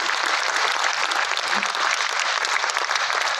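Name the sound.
applause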